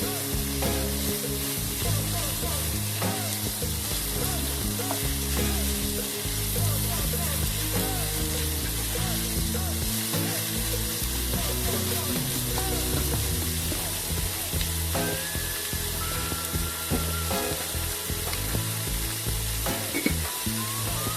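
Onions frying lightly in a pan for a chicken samosa filling, a steady loud sizzle with frequent stirring scrapes running throughout, close and with no talking.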